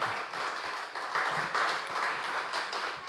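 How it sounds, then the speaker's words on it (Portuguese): Church congregation applauding during a worship service, with dense, steady clapping from many hands filling the room and holding at an even level throughout. "Você pode aplaudir o Senhor?"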